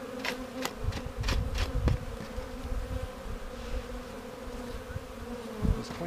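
Honeybees buzz steadily at a hive entrance in winter, a continuous close drone with some sharper passing buzzes from individual bees, no speech.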